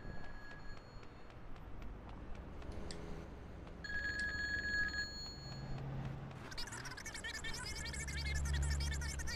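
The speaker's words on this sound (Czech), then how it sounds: "Jo, tady je červený telefon." A red telephone rings in the PC game Grand Theft Auto 2, a repeated electronic ring at low level amid game background noise and traffic.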